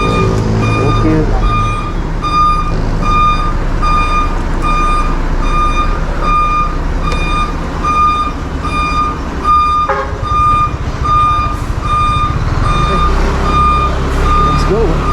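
A large truck reverses with a steady series of loud, high electronic backup beeps repeating throughout, over a continuous low engine rumble and road noise, with voices talking faintly at times.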